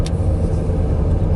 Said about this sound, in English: I'm going to go into second gear now.